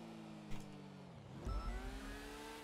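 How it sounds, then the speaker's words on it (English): A car engine in GTA V on the NoPixel roleplay server hums steadily, then dips and climbs again in a revving whine, fairly faint and without talk. "Needs a better engine sound? I'm fine with it sounding like this."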